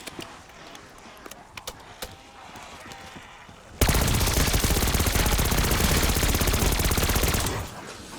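Call of Duty Zombies gameplay: loud, sustained automatic gunfire erupts after a few seconds of quieter game ambience with scattered thumps, rattling on continuously as zombies are shot, then easing slightly near the end.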